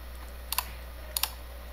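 Computer keyboard typing and clicking, two brief pairs of sharp, close key clicks spaced about half a second apart over a quiet, steady background hum.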